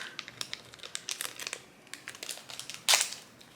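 Crinkly plastic rustling and crackling in short bursts, a Disney pin blind bag being pulled and torn open up close, with one sharper rip near the end.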